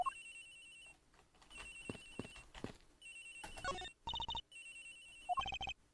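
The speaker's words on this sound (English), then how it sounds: "Agent Hicks's phone. It's ringing from somewhere, sir." A phone rings in the Ace Attorney Investigations video game, a melodic electronic ringtone playing in repeated bursts with short gaps, clear and prominent with no talking.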